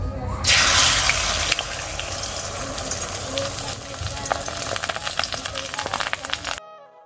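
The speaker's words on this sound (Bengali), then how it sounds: "এখানে যে দুইটা ডিম আমি ভেজে নিচ্ছি" Steady loud sizzling and crackling of two eggs frying in a hot pan, continuous throughout before cutting off abruptly.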